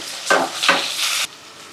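Onions and green chillies fry in a pan for beetroot curry, giving two short scraping stirs over a hissing sizzle that suddenly drops away, close and fairly loud.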